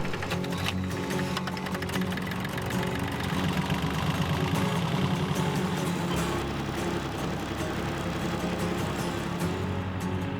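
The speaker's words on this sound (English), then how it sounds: "It just doesn't get any better than turning dirt on a tractor." A tractor engine runs at a steady idle-like chug while turning dirt on new property, a continuous mechanical drone at constant loudness with faint rattling, no talking.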